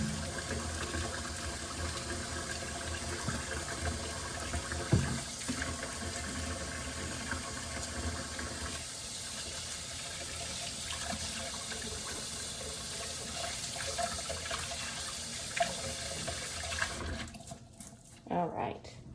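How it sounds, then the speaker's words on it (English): Tap water runs steadily into a sink while hands are washed, a loud continuous splashing hiss with small shifts as the hands move under the stream, ending in a quick stop, with someone speaking over it. "Otherwise, I'm going to wash them again."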